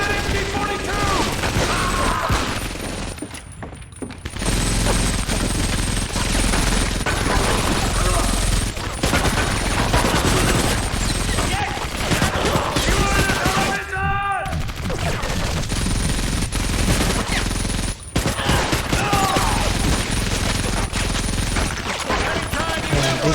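MG-42 machine gun fire in the video game Medal of Honor Vanguard, a near-continuous dense fusillade of gunshots and bursts over a graveyard battle lasting throughout, with brief lulls and occasional voices mixed into the loud combat.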